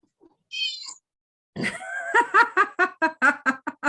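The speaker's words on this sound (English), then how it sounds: "The cat is so agreeable." A cat gives a short high meow, then after a pause a quick run of rhythmic chirpy sounds that could also be laughter, close and clear with no words.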